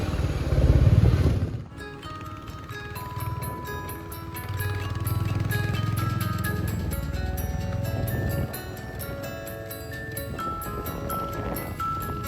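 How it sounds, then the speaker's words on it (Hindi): A motorbike ride on a trip to Rishikesh, with a steady engine rumble and road noise close by that swells and eases over several seconds, with no speech over it. "फिर मेरे को भी बाइक पे बैठने का मौका मिला।"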